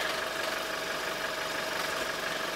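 A 1988 Land Rover 110 with a 300Tdi diesel engine idles steadily with a rough, knocking mechanical clatter and vibration, close and fairly loud, with no voices.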